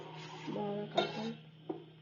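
Cumin and ajwain are stirred in a pan for an Ayurvedic immune-boosting drink, producing faint metallic scraping with a couple of sharp clinks of utensil against the pan over a low steady hum.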